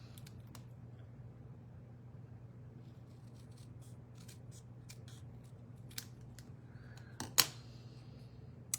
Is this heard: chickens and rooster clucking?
no